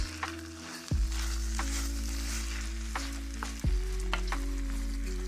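Orzo with heavy cream and spinach being stirred in a hot pan, a soft continuous sizzle with light scraping strokes and a couple of clunks from the utensil on the pan, close up, with no talking.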